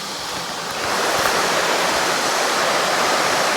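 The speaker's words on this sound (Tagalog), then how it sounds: "Ang sarap ng tunog ng tubig guys" The Santikan River rushes in a broad, steady hiss of flowing water that swells louder after the first second and continues close and unbroken, with no talking.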